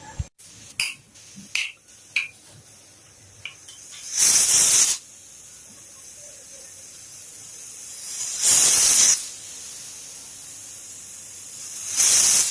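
Pressure cooker whistling while dal cooks, three bursts of sharp hissing steam spaced a few seconds apart, each lasting under a second, after a few faint clicks and knocks, with no voices.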